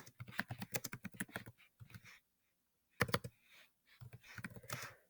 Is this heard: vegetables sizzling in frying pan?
no